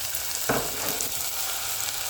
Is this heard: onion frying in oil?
yes